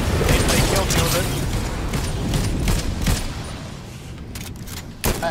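Rapid gunfire crackles in Fortnite, dense bursts of shots with sharp cracks near the end, heard under and between players talking over voice chat.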